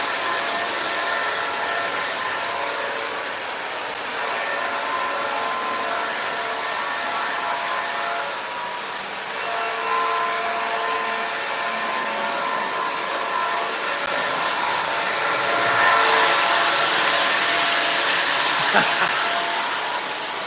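An O scale model train runs continuously on its track, a steady mechanical whir and rail hum that swells slightly toward the end, with a faint brief click near the close.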